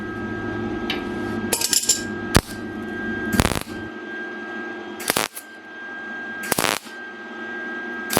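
Tack welds on a sheet metal truck cab corner repair, a few short separate bursts of crackling arc, each about a fraction of a second, spaced apart over a quiet shop hum.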